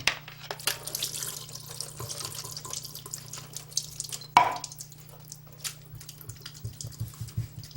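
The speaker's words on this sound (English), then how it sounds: "Now I'm going to drain these because, as I said, I want to store it and I don't want them to be runny." Canned diced tomatoes with green chilies draining in a kitchen sink, with a steady trickle of liquid, intermittent drips and splashes, and one brief louder clatter partway through, all at close range.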